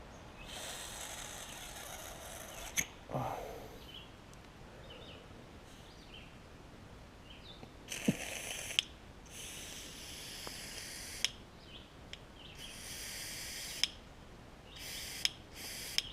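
Soft hissing puffs of air blown through a Powermore mower engine's carburetor valve, in several bursts separated by quiet pauses, with faint clicks and ticks of the valve seating between them.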